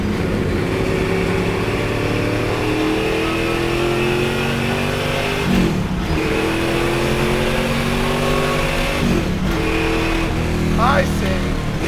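A million-dollar Mustang's engine runs loud and steady at high RPM throughout, with brief surges as gears change, while a voice speaks intermittently over it.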